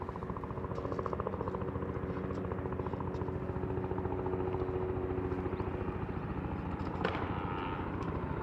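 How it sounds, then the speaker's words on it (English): Helicopter flying low over Manhattan, a steady thumping rotor chop with engine whine holding loud and close throughout the passage amid distant city ambience. "Got the helicopter that just took off."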